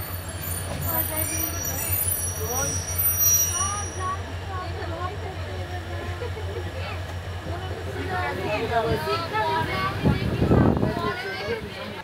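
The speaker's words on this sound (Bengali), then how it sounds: "যাত্রীদের ওঠানামা শেষে আবারও চলতে শুরু করলো ট্রেন।" Passenger train starting off again from the Airport railway station on the Cox's Bazar to Dhaka line, a steady low rumble that builds gradually, with voices talking over it and a louder burst near the end.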